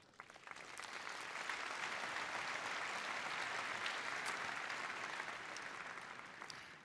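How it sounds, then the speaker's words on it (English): An audience applauds at the Cisco Live 2025 Amsterdam opening keynote, a dense, sustained wash of clapping that swells quickly and fades slightly toward the end. "Big applause to all of you."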